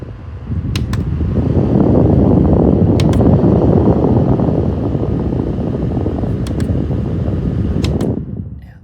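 Amailtom portable neck air conditioner fan running, a steady close whooshing hum for about eight seconds before it cuts off, with a few faint clicks over it.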